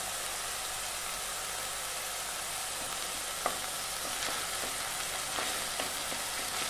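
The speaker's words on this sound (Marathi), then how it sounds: "एक टोमॅटो बारीक पेस्ट केलेली आहे ते घालूया। छानपैकी परतून घेऊया।" Tomato paste and ginger-garlic paste sauté in a pan for a drumstick and potato curry, giving a soft, continuous sizzle with a few clicks and light scrapes of stirring, moderately quiet and close, with no voices.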